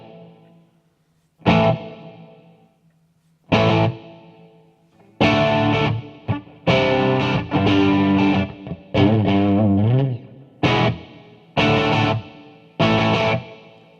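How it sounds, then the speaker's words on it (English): Guitar played through a Mooer Ocean Machine Devin Townsend dual delay and reverb pedal with heavy reverb on, distorted chords struck in loud bursts with long washy tails ringing between them and no talking. "This is what it sounds like with the reverb on."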